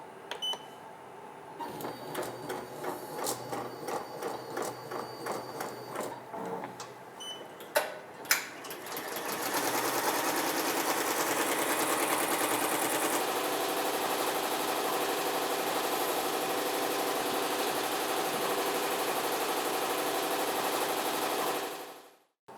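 A BAi Mirror embroidery machine stitches a design onto a T-shirt. Faint clicks and ticks come first, then the needle settles into a fast, continuous mechanical whir and chatter that runs for a long stretch before stopping abruptly.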